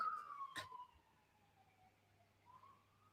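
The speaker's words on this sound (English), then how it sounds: "you can hear the sirens? I did hear that siren." Siren on a Brooklyn street with a wailing tone that sweeps and falls, fading and rising again, over a steady low hum of street noise, with a brief bump of nearby noise near the start.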